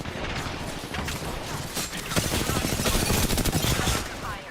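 Rapid gunfire in the Apex Legends video game forms a dense, continuous fusillade of sharp shots lasting the whole stretch, growing louder toward the middle.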